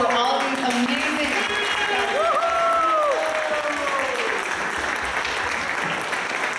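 Steady audience applause after a drama play in Austin, a dense wash of clapping filling the room, with voices and cheering calls rising over it.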